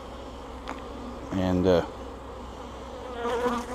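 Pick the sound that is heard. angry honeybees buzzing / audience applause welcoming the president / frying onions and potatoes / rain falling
angry honeybees buzzing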